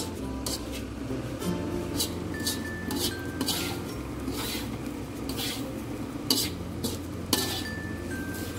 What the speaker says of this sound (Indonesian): Saya sangrai kelapa ya.